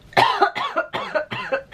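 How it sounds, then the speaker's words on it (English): A burst of several quick, harsh coughs in a row, close and fairly loud, with no talking. "needing to cough"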